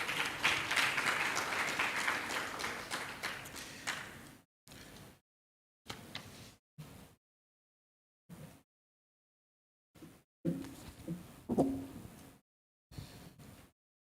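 Applause from an audience at a panel session on climate and environmental resilience in extractive communities, fairly dense for about four seconds and then fading, followed by scattered brief sounds between silent gaps.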